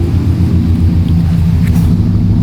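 A Subaru STI fitted with a new aftermarket exhaust idles steadily close by, a loud, even low rumble with a lumpy pulsing burble and no voices.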